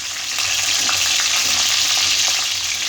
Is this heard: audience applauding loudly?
no